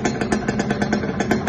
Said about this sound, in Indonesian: Motor pun hidup.